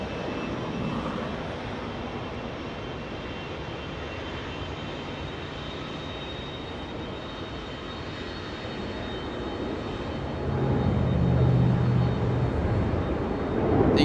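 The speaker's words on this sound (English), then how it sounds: "You guys hear the engines in the background? Get ready to see. Rolls-Royce engines. Those are RB211s." A United Airlines Boeing 757 with Rolls-Royce RB211 jet engines taxis at Los Angeles International Airport, giving a steady broadband engine roar with a faint whine, swelling louder near the end.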